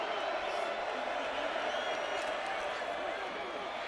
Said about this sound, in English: Crowd gets into it again.